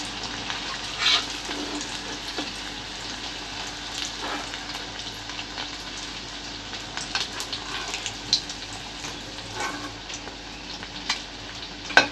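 Egg fritters fry in a pan with a continuous bubbling sizzle, broken by scattered clicks and light stirring scrapes, close by and free of talk.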